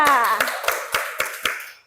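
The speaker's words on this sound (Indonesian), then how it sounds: "Tepuk tangan untuk kelompok 2" A small classroom group claps briefly for group 2, a handful of sharp, separate hand claps spaced out in a loose rhythm after a short spoken phrase, close and fading out at the end.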